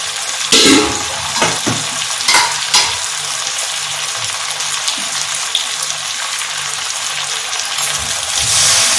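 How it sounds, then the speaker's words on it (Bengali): Hot water goes into sizzling Bengali-style chicken kosha curry in a pan, a few sharp splashes and stirring clatters at the start before a steady frying hiss and bubbling carry on alone, swelling slightly at the end. "এখন আমি এর মধ্যে একটু গরম জল দিয়ে দিচ্ছি।"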